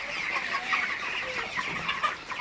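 A flock of 32-day-old broiler chickens clucks steadily, many birds overlapping in a busy, continuous chatter, fairly close, as rain begins.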